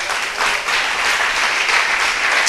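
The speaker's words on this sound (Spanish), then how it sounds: "Denle un aplauso a Dios" A church congregation applauds God during an evangelistic service, a full, steady burst of many hands clapping together for a couple of seconds with no speech over it.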